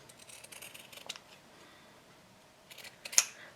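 Scissors trimming the fabric corner of a sewn rice heat pack, a few faint, close snips with a sharper snip near the end, in an otherwise quiet room.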